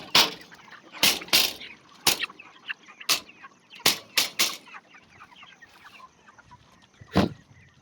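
Chickens cluck and squawk close by in sharp, loud bursts, several coming in quick pairs and others spaced irregularly, with quieter clucking and murmuring in between.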